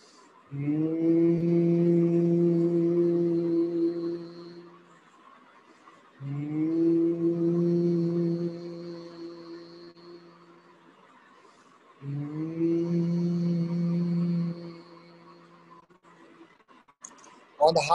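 Several people hum together in long, steady nasal tones imitating a bumblebee's drone, three sustained breaths separated by quiet pauses.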